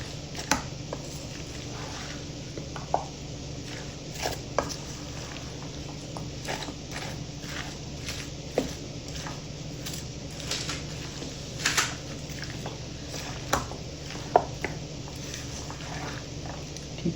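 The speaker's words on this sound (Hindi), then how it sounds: "इसको अच्छी तरह मिक्स कर लेते हैं।" Mango chickpea pasta salad with vegetables and mayonnaise is stirred together in a bowl, producing soft wet squishes and occasional light clicks of the spoon in an irregular rhythm, close and quiet.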